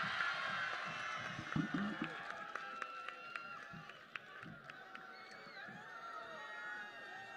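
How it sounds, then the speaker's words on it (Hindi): A crowd at an outdoor Bharat Jodo Yatra political rally in Hingoli cheers and claps from a distance, a diffuse roar with scattered sharp claps and shouts, and voices audible within the din. "जोरदार तालियां"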